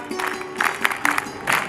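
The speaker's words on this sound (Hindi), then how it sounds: "एक बार वीरांगना ताली" Brief burst of audience clapping at a girls' camp graduation ceremony in Agra, a short uneven ripple of applause rising and falling over under two seconds.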